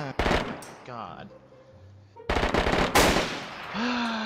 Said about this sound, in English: He's still shooting at your body.